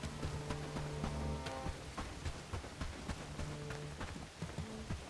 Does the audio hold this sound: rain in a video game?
yes